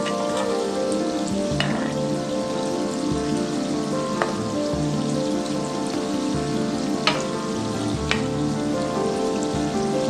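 Bonda snack balls deep-frying in oil over a medium flame bubble and sizzle continuously, with a few sharp pops rising above the steady hiss.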